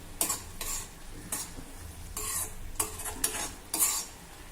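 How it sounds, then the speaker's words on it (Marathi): Pineapple pieces cooking down with sugar in a pan, a low bubbling sizzle punctuated by repeated spoon-stirring scrapes and clinks at an uneven rhythm, no talking. "आता या साखरेसोबत देखील आपल्याला हे जरा वेळासाठी शिजवून घ्यायचं आहे."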